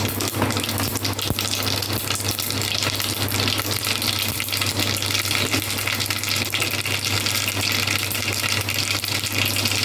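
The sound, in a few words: mustard seeds spluttering in hot oil for rasam tempering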